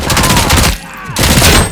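Sustained automatic gunfire in RoboCop: Rogue City plays as loud, dense bursts with a short gap in the middle.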